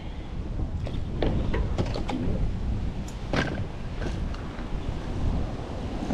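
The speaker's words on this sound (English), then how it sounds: "That's water." Water at a boat launch where an inflatable Sea Eagle FishSkiff 16 fishing boat is being put in, heard as a soft continuous wash with wind across the microphone and a few faint knocks.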